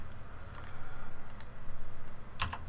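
Computer keyboard keys pressed during UV mapping work in Blender, a few sparse clicks and taps, close and fairly soft over a low steady hum, with no talk.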